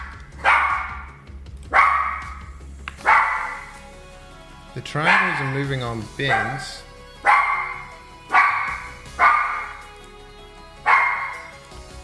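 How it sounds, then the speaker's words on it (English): Several dogs barking in the background in sharp, evenly spaced single barks, with a brief run of whining yips in the middle, while a person talks over them. "Oh man, sorry about the dogs."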